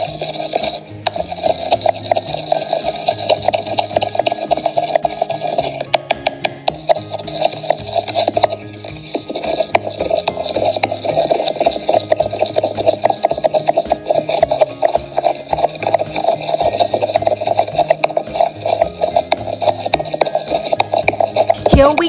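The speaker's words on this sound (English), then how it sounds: "mix it again using the spatula thoroughly until the cup gets" Slime being mixed in a cup with a spatula, a long run of close, continuous wet rubbing and scraping strokes with a steady, busy rhythm and no voices.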